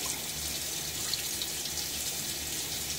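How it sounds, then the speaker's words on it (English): A shaving razor is rinsed under gently running tap water, a steady, soft splashing trickle that continues without a break. "Rinses easily from the razor."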